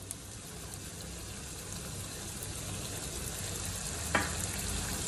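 Chicken frying in a pan as tomatoes are added, a steady close sizzle throughout with a brief sharper crackle near the end, no voices.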